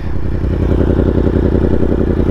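A 2018 Yamaha R1 sportbike engine runs steadily while being ridden, a loud, close, continuous throbbing drone with a rapid pulsing rhythm and no talk over it.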